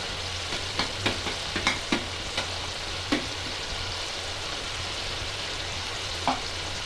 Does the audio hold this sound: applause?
no